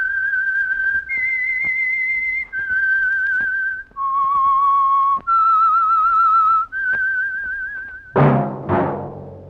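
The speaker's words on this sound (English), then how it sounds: "That whistle is your signal for the Signal Oil Program, The Whistler." A whistled theme for the Signal Oil radio drama The Whistler: a sequence of long, clear sustained notes stepping up and down in pitch, alone and close, ending with a short sharp burst of musical chimes.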